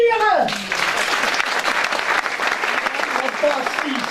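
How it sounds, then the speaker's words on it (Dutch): An audience at a children's musical performance in Maastricht breaks into steady applause, filling the room, with a voice heard briefly over the start. "Dat is een applaus voor onszelf weer"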